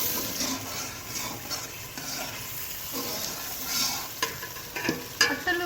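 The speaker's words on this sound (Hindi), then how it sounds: "ये आप देख रहे हैं कि कितना ज़बरदस्त फ्राई हो रहा है प्याज हमारा।" Onions fry in a pan with a steady sizzle while a utensil stirs and scrapes them, the clatter becoming sharper and more frequent toward the end.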